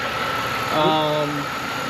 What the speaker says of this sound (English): we've actually got the car engine to idle normally without having to take the engine out